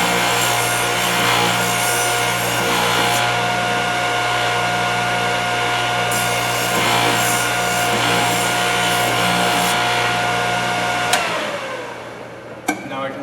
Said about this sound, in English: I'm going to sharpen up 1 or 2 more passes to get that cleared out nicely.